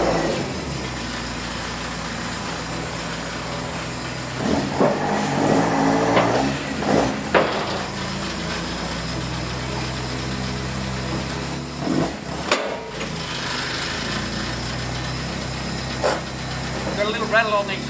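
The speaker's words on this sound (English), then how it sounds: "Got a little rattle on the exhaust." A Datsun car engine idles steadily with a faint exhaust rattle, while people talk over it and the engine note swells briefly a few times.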